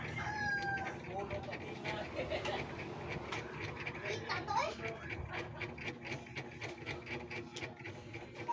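Chickens cluck and a rooster crows in an outdoor setting, with birdsong and background voices throughout.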